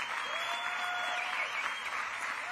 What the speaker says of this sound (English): Let's give another round of applause to all the hard workers.